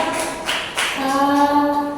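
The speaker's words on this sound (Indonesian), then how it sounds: "tepuk tangan buat Bapak Ibu sekalian" An audience at a school dissemination session in Surakarta applauds in a brief burst of clapping. It sounds fairly close and lasts about two seconds, ending as a sustained tonal hum rises beneath it.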